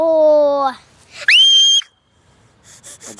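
A child screams in two loud, high-pitched bursts, the second a sharp rising shriek, with a short gap between them and faint breathy sounds afterward, close to the microphone.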